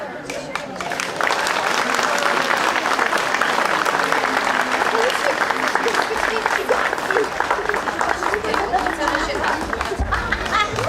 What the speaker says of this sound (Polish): Gorące oklaski nie tylko od rodziców, dla wspaniałych przedszkolaków